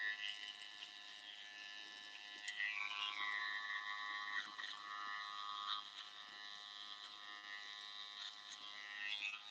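Electric hair trimmer set to the shortest zero guard buzzes steadily and close while shaping a haircut, its whine shifting pitch as it moves through the hair, with no talking.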